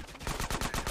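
Rapid automatic gunfire in GTA San Andreas, a loud, close, continuous stream of evenly spaced shots with no talking.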